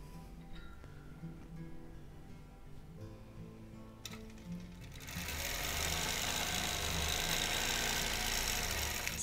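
A sewing machine quilts a small wholecloth quilt on a roll frame, starting after a quieter stretch of low mechanical hum and then running steadily and loudly through the second half.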